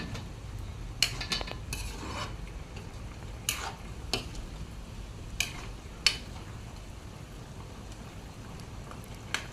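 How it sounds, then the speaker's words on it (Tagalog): Pork with carrots and potatoes being stirred in a pot, a soft continuous sizzle broken by intermittent scrapes and clinks of a utensil against the metal. "Halo-haloin na naman. Para pantay-pantay yung pagkaluto."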